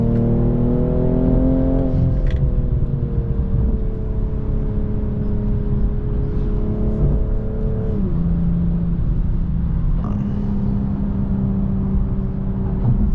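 A BMW M240i's engine drones loud and close from the cabin while driving, holding high revs, with the pitch sliding down in steps as it shifts and settles.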